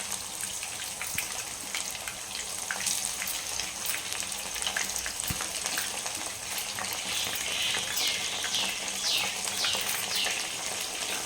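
Meal maker chunks frying in hot oil for a meal maker 65 dish: constant crackling sizzle with dense popping and bubbling, steady and close throughout, with no voices.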